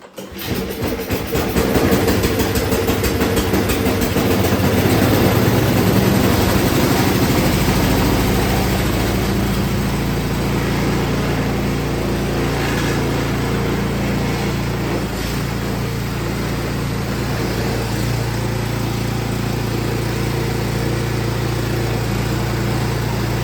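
Small single-stage snowblower engine started and running on full choke, a steady loud drone that swells in the first seconds and then holds at a rough, even idle close by.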